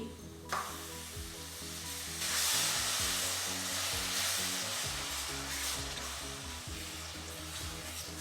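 Dhaba-style egg curry hisses in a pan as tomato puree is added, giving a steady sizzle that swells with a frying burst partway through, under rhythmic background music.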